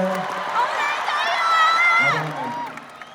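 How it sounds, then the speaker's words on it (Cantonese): A Hong Kong concert crowd at a 40th anniversary show screams, whoops and cheers in a loud, continuous swell, with high shrieks over a dense roar that fades near the end. "因為我哋喺台上最中意聽嗰啲尖叫聲啊，嗰啲拍手掌聲啊"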